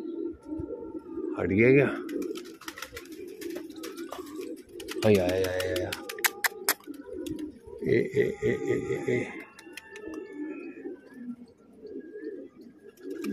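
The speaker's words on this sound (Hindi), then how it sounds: "अब ये कबूतर जो आ रहा है ये भी मेरा नहीं है" Pigeons coo in several close, breathy bursts amid a room with ongoing talk, a few sharp clicks and chirps scattered between the calls.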